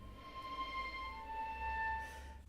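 Sustained string harmonics from the Cinematic Studio Strings library in Notion 6: thin, airy high tones held steadily at moderate volume over a low hum.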